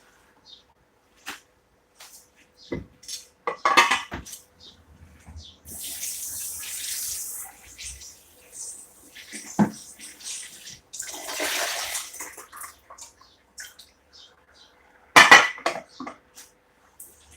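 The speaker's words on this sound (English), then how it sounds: "So let's quickly rinse our potatoes." Potatoes rinsed under a running tap while cooking at home, water splashing and hissing in steady stretches broken by short clinks and knocks, close by with no talking.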